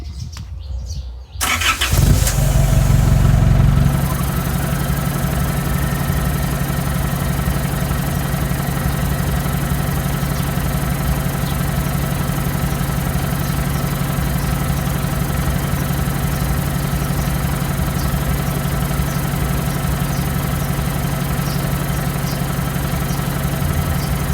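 A 2012 All New Max 2.5 VGS diesel engine with its EGR fully blocked starts up and then settles into a steady, close idle, a constant mid-pitched drone with no talking.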